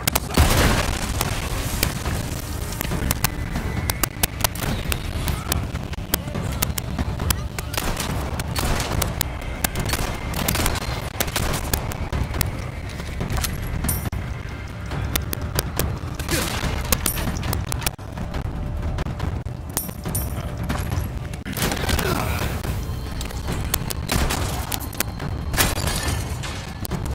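Continuous dense barrage of explosions and gunfire in Resident Evil 4, loud and constant throughout with repeated booming rocket launcher blasts layered over chaotic combat noise.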